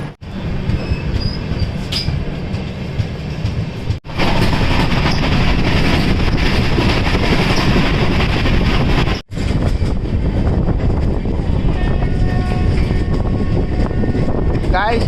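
An Intercity Express train rumbles into Gwalior railway station on its Ajmer to Gwalior run, loud and close, with heavy rolling rail noise and faint wheel squeal throughout.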